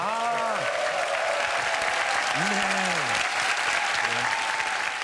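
Broadcast studio audience applause on a Korean television variety show about a military academy, a loud continuous wash of clapping throughout while a voice speaks and hums over it.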